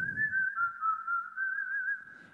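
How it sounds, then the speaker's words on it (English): A clear, steady whistle tone is played on an instrument, sustained for about two seconds with a slight wavering pitch, close and fairly soft, with faint breathy noise at the start and end. "Whistle."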